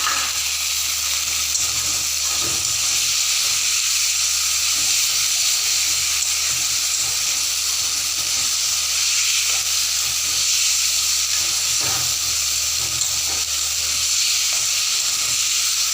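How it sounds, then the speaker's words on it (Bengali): Potatoes and spices fry in a pan, giving a steady close sizzle and hiss that runs throughout, with occasional soft stirring clicks and no talk. "এভাবে আমি একটু কষিয়ে নেব আলুটাকে মশলার সাথে"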